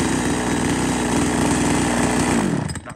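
A secondhand Japanese chainsaw runs loud and close at a steady, buzzing idle for under three seconds, then abruptly cuts out.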